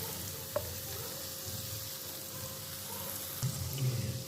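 Tomato sauce poured into a hot pan of spiced macaroni masala, a steady low sizzle with occasional scraping and stirring clatter, fairly quiet and continuous throughout.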